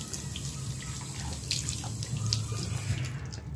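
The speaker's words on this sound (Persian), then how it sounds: "این هم از شیر آب." Water runs steadily from a household tap, a close, continuous splashing stream with faint dripping and no speech.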